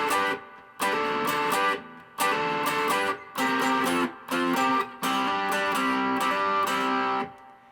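An electric guitar plays bars 5 to 8 of a song: rhythmic, driving chord stabs in short bursts with brief gaps, up close and alone.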